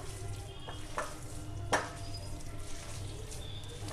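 Minced mutton and chopped onions are mixed together for keema balls, making faint, soft, continuous squishing and stirring noises with a few light clicks, alone and without talk.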